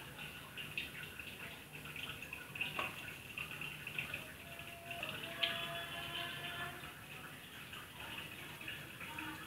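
Hot ghee made from packaged-milk cream poured through a cotton cloth over a large strainer into a bowl, a faint, soft steady trickle and gurgle of liquid running continuously with small drips.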